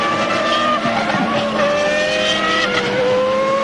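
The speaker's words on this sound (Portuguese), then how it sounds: "Schumacher manda o pé para baixo e aí fala bem alto o motor Renault." A Formula 1 car with a Renault engine screams under hard acceleration at the 1995 Japanese Grand Prix, loud and close, its high whining pitch climbing steadily with a faint tire squeal and no talk.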